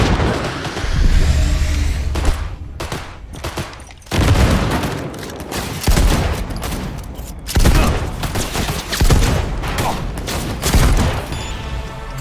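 Grenade blasts and gunfire erupt in a Cyberpunk 2077 firefight, a run of loud, dense bursts and booms repeating roughly every couple of seconds over rumbling low-end noise.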